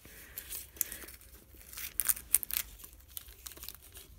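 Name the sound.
cutting off tape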